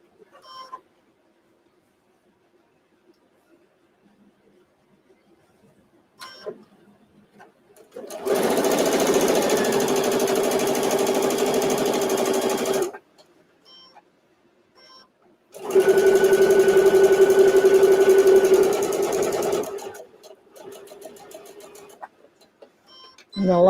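A sewing machine stitching a fabric microwave potato bag runs in two loud, steady bursts of several seconds each, separated by quiet pauses with soft handling noises and speech.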